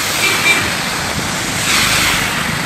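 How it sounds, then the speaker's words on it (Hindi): Heavy rain pouring over a flooded street, a loud, steady, broadband rushing wash of falling and moving water, close and constant with no voices over it. "बहुत जोरदार तरीके से बारिश जारी है।"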